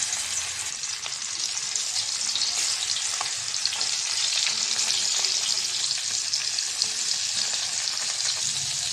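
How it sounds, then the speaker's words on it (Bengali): Fish coated in turmeric and chili, including shing, koi and magur, fry on a hot griddle with a dense, steady sizzle and crackle that fills the whole stretch, close and loud with no talking. "মাছটা দুইবার করে ভাজা লাগবে যেহেতু বেশি মাছ"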